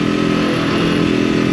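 A Voge 525 ACX motorcycle from 2023 cruising in second gear, its engine droning steadily and loudly throughout with a rough, even mechanical hum and no talk.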